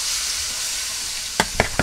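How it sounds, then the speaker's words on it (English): Oxtail meat is put into a hot pot, giving a steady close sizzle and hiss, with three quick knocks or clanks near the end; no speech. "let's put our meat in the pot"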